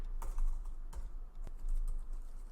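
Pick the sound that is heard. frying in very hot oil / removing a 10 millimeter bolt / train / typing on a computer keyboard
typing on a computer keyboard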